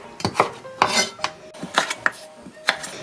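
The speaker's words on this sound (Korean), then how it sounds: "반을 잘라주시고 이렇게 채를 썰어주세요." Kitchen knife slicing half a cucumber into thin matchstick strips on a cutting board, a quick run of close, crisp knocks and scrapes at an uneven pace.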